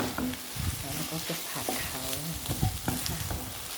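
Pickled bamboo shoots stir-fry in a hot pan, sizzling steadily under repeated scraping and clattering of a spatula, with brief faint sounds between strokes.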